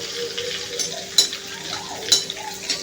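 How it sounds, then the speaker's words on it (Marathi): Cumin seeds fry in butter for pav bhaji with a faint sizzle and crackle, under a steady hum and a couple of sharp utensil clinks against the pan. "जिरे छानपैकी बटरमध्ये आपण फ्राय करून घ्यायचे आहेत."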